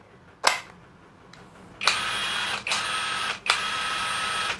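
A Kamolee 520Nm cordless impact wrench with a variable-speed trigger and battery runs in short bursts: a sharp click, then three sustained high-pitched whirring runs, each a second or less, broken by brief stops, close and fairly loud with no talking.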